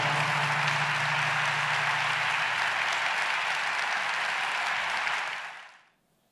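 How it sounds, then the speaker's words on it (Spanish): Sustained applause from a large audience at an international education and inclusion congress, steady and dense for about five seconds before fading out to silence. "Para no interrumpir el aplauso"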